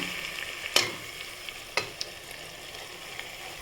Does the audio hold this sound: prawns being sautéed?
yes